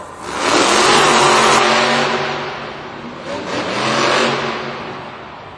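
A Monster Jam monster truck sits at the start line in a Cincinnati arena, its big engine revving loud and close, swelling, easing off slightly, then building again in a second rev.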